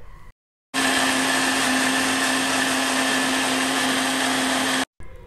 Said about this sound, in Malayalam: അപ്പോൾ ഇനി ഇത് നന്നായിട്ട് അരച്ചെടുക്കാം മിക്സിയുടെ ജാറിലിട്ടിട്ട്.